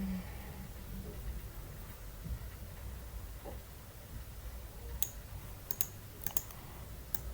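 Computer keyboard keys pressed while editing a document in Microsoft Word, a few sharp clicks near the end over a steady low background hum.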